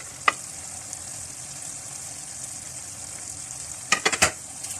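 Masala-stuffed green chilies sizzle steadily in a pan of achar gosht, a continuous frying hiss broken by a sharp clink early on and a few quick stirring clatters near the end, with no talking.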